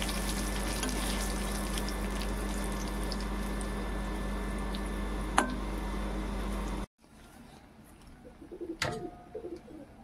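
Fish frying in a pan of oil while a Bengali spinach dish is prepared, a steady dense sizzle that runs loud and continuous, then stops abruptly and leaves quieter scattered kitchen sounds.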